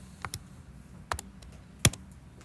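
Calculator buttons are pressed in a few sparse, sharp clicks close by, the last tap clearly louder, with quiet gaps between presses.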